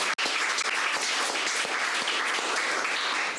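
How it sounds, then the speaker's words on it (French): Steady applause from an audience at a local awards-style finalist presentation, dense continuous clapping filling the room with no voices over it. "Vous pouvez l'applaudir."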